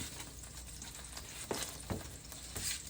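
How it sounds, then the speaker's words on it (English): Chicken crumbles frying in a pan, a quiet steady sizzle with a few sharper pops and crackles spaced through it, heard alone without talk. "So I'm just gonna let this cook for about 3 minutes on each side"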